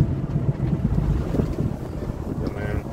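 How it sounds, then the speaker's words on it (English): Heavy wind buffets a moving truck on the road, a loud continuous low roar and rumble with gusty fluctuations and no one speaking. "this fucking wind is not a joke"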